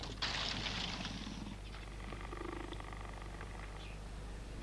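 A leopard just trapped alive on a farm in southwest Africa purrs and rumbles close up in a steady continuous stream with rhythmic low pulses, unaccompanied by speech.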